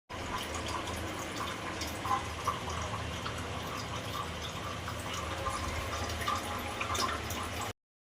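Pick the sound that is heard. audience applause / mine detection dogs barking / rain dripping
rain dripping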